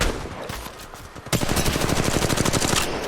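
Rapid automatic gunfire in a ranked online shooter match, sparse shots at first and then a loud, dense burst of sustained fire from close by, with no talk over it.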